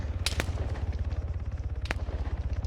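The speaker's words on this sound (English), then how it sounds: "A lot of explosions." Rapid, rhythmic bursts of gunfire-like blasts pound continuously in an Arma 3 battle, with a couple of sharper cracks standing out, loud and close.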